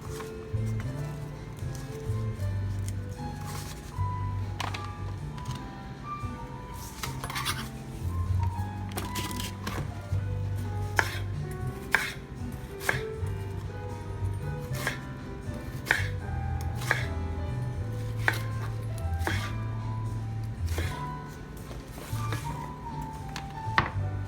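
A knife chopping an onion on a cutting board, irregular crisp taps and cuts spaced over a long stretch, close by, with low background music underneath.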